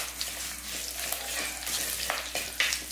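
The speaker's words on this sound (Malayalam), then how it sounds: "ഒന്നിളക്കി കൊടുക്കാം ഇഞ്ചിയുടെ പച്ചമുളകൊന്ന് മാറിയിട്ട്" Ginger and green chillies frying in a pan while being stirred, a continuous close sizzle broken by light scraping strokes of a spoon.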